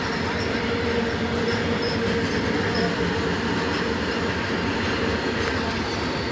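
A large freight train thunders past at close range, a loud unbroken rumble of rolling wagons with occasional wheel squeal and clatter, no talking.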